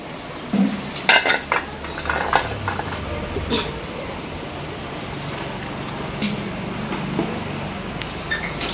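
A big pile of household dishes, pots and pans is washed, with metal utensils clanking and clattering in a cluster of close knocks early on, then a steady wash of background noise with occasional faint clinks.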